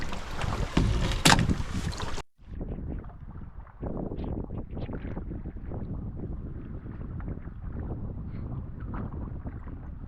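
Paddling a canoe on a lake in the Boundary Waters: soft splashes and water sloshing against the hull, under steady wind buffeting the microphone.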